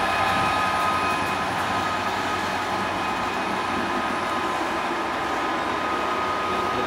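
A Class 37 diesel locomotive train passes through Cardiff Central station, its loud, steady engine roar and rolling rumble holding close and constant throughout.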